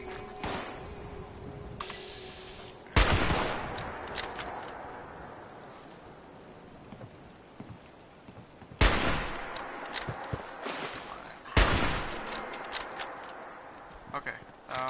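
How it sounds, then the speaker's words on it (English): Gunfire in the video game Fallout 76: bursts of shots ring out in the distance with a few sharper, louder volleys, while a voice talks over much of it. "Where's that shooting coming from?"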